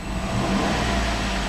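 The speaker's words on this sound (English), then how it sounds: "I'm going to go ahead and rev the engine" A 2008 GMC Yukon Denali AWD with a 6.2-liter V8 engine is revved, producing a steady, close, loud engine drone with no talking over it.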